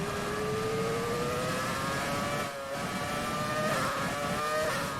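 Race car engine in the F1 2020 video game, a continuous high-pitched whine that climbs steadily in pitch through the gears, loud and close, with a brief dip in the middle and no talk over it.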